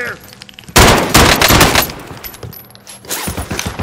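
Video-game gunfire in a gas-filled battle zone: a loud burst of rapid shots erupts after a quiet start, then trails into scattered follow-up shots and ambient noise, with voices briefly audible.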